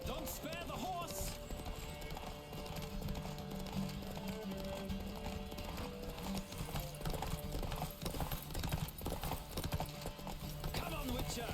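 Fast, continuous hoofbeats of a horse racing at a gallop in The Witcher 3, steady and fairly close, mixed with game ambience and occasional speech.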